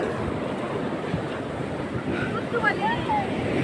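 Ocean waves on a beach roll in as a steady, full roar of surf with wind noise on the microphone, holding nearly constant loudness throughout.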